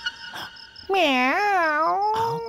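A cat lets out a loud, drawn-out meow that rises and falls, close by, with faint muffled sounds just before and after it.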